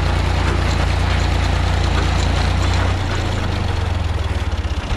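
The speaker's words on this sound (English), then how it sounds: "We'll shut off the tractor and take a look." A tractor engine idles close by, a loud steady low rumble with rhythmic chugging that grows more uneven and throbbing toward the end.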